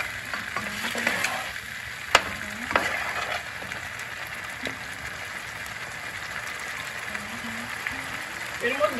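Spices fry in hot oil for Bengali dhokar dalna, a steady close sizzle with occasional stirring clinks, heard under a speaking voice.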